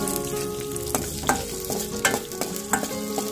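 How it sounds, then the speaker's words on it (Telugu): Onion pieces and tempering seeds fry in oil, a steady close sizzle and crackle with a clanking spatula scraping and stirring the pan every half second or so, with no voices. "తాలింపు గింజలు కూడా ఫ్రై అవుతున్నప్పుడే ఉల్లిపాయ ముక్కలు ఫ్రై చేసుకుందాం"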